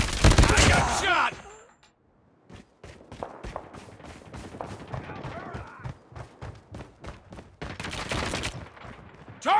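Bursts of gunfire from a Call of Duty firefight, a loud dense volley at first, then a string of sharp separate shots and short bursts, with voices talking over the action.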